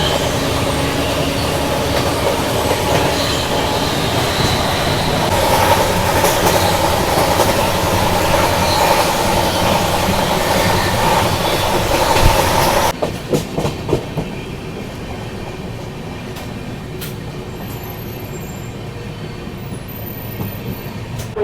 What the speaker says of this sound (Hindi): तो अभी अपनी राजधानी एक्सप्रेस धीरे धीरे स्किप कर रही है इगतपुरी रेलवे स्टेशन को